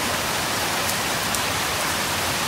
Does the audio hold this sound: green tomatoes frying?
no